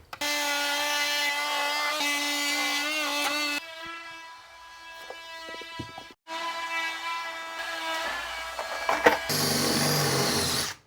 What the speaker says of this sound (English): the best thing I've found is just get a big metal bit and we just drill them out